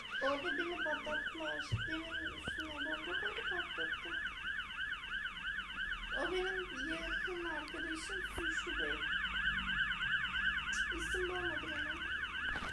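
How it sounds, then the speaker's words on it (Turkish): A wailing ambulance siren sweeps up and down steadily, loud and close, with faint voices briefly underneath at times. "Ambulans falan gelmiş ya ne oluyor burada?"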